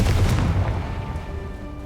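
A Confringo fire-blast spell explodes in the video game Hogwarts Legacy, one deep booming blast up front that rumbles and fades over about two seconds, with faint tones lingering.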